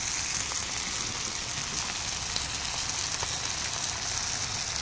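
Ginger garlic paste frying with tomatoes in a pan, a steady, moderately faint sizzle and crackle that holds evenly throughout with no voices over it.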